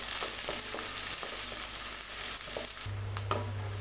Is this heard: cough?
no